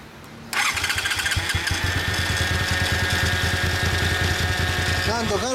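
A Honda Xelvis VT250 (MC25) motorcycle engine cranks and catches after a brief quiet start, then idles with a steady, throbbing putter close by.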